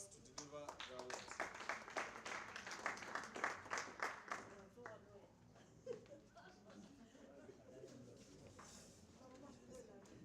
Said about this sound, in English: let us just welcome the Chairperson with a round of applause